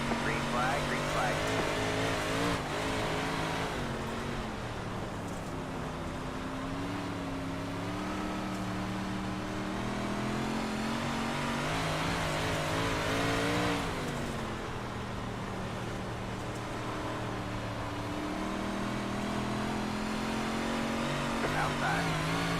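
Super Late Model dirt race cars roaring off at a green flag, a dense continuous engine drone with rising revs from a pack of cars, steady and loud throughout, with voices talking over it.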